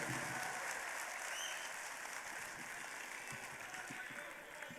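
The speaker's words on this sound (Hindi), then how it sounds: "तालियां बजाइए जोरदार ताकि उनसे गुजारिश की जाए" A crowd at a poetry recital claps steadily, a dense wash of applause that holds at an even level throughout, heard from a slight distance.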